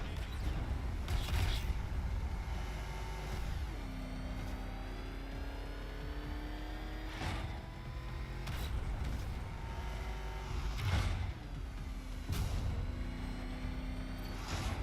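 Batmobile engine in the video game Batman Arkham Knight, a steady loud motor drone that rises and falls in pitch as the car accelerates and eases off, with a few sharp bursts of revving and scraping along the way.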